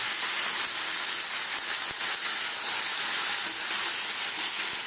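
Mustard and chilli tempering hitting a hot pan for a winter mixed-vegetable dish with prawns and garlic, giving a steady, loud broadband sizzle and hiss that holds evenly from start to finish with no talking.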